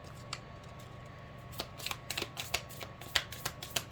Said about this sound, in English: I'm going to pull some more cards.